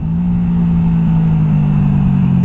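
A Honda Shadow 125 motorcycle engine drones steadily and loudly up close, its low, even hum building gradually as the bike accelerates, with no voices over it.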